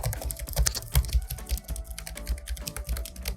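Someone types on the keyboard of an ASUS ROG Strix G17 gaming laptop, producing close, crisp key clicks and thocks in an irregular quick rhythm with no speech.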